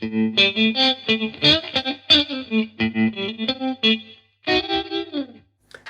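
An electric guitar riff through the ring modulator setting of a Zander Circuitry Junipero pedal, control knob at zero, with a metallic, warbling modulated tone: a run of short chopped notes followed by a sustained chord.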